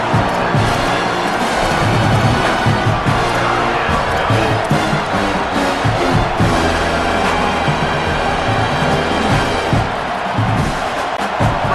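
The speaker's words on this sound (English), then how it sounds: "Third down and the crowd really getting into it" A stadium crowd roars and cheers steadily at a college football video game, Michigan Wolverines against Ohio State Buckeyes, on third down. The noise stays loud and dense throughout, with swelling surges and no voices standing out.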